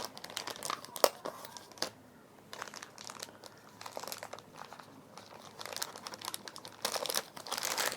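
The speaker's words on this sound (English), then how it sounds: "We have a tape here. Let me just cut that open." Crinkling and tearing sounds come from tape being cut open on Dell Inspiron 14 laptop packaging, quiet irregular scratches and crackles rising and falling close by.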